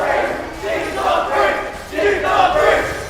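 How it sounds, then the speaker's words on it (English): A crowd chanting at an esports state championship, rhythmic swells of many voices in repeated bursts, loud and filling the space. "And we hear more chanting from the crowd as they are loving Jeek right now."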